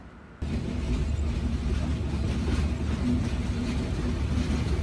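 The Sundarban Express pulls out of Alamdanga railway station, a deep steady rolling rumble that starts abruptly and stays loud and even, heard from on board with no voices.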